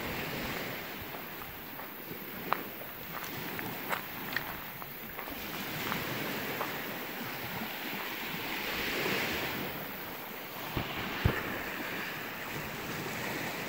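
Sea waves wash onto a secluded beach by a Garífuna village in Honduras, a continuous surf wash with gusty wind buffeting the microphone and a few faint knocks.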